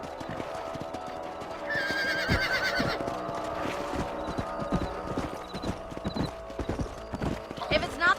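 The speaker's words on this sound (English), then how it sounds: "Let's get back on the horses" Horse hooves clip-clop at a steady rhythm in the Western video game Red Dead Redemption, with a horse neighing, mixed under music and game ambience.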